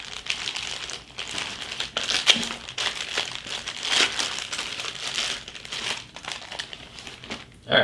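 A taped-up plastic Petco shipping bag is unwrapped close by, with continuous crinkling and crackling in uneven bursts and no talking.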